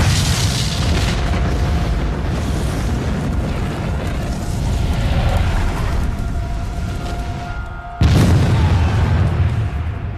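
Civil War-era cannon firing canister shot at Gettysburg: a sustained rumbling battle roar with one sharp, loud boom breaking through late, dense and heavy with no voices.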